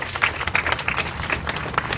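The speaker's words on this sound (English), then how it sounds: "Give yourselves a round of applause for yourselves and for the" A crowd at an outdoor rally against an immigration detainer bill applauds: dense, loud clapping close by with steady rhythm throughout, a few voices mixed in.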